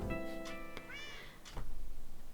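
Minecraft cats meow in a blocky game world, two or three short near meows with a soft thunk between them, clear and moderately loud with no talk over them.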